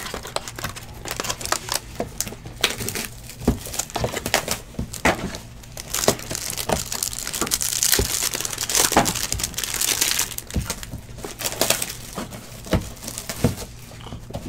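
Foil packs of 2019 Absolute football trading cards being ripped open: steady crinkling and tearing of wrappers with sharp crackles, close and fairly busy throughout, no talking.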